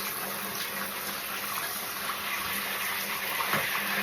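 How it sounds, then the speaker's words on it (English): Water from a tap runs steadily while a miniature bull terrier is wetted for a bath, a constant close hiss and splash with a small splash near the end. "I put water on my hand and then wet the top of his head"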